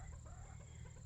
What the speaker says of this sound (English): I've just been watching the chickens carve out a pumpkin face, a jack-o'-lantern.